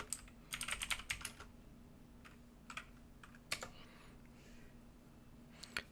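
Computer keyboard typing while entering terminal commands, with quick bursts of key clicks separated by short pauses and isolated keystrokes, close and fairly quiet over a low steady hum.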